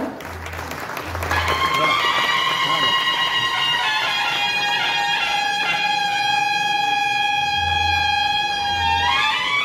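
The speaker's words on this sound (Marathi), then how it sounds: "जोरदार टाळ्या वाजवूया आपण सगळेजण।" An audience applauds at the inauguration of a bhajan convention in Mumbai: sustained clapping fills the hall, with steady held musical tones ringing over it.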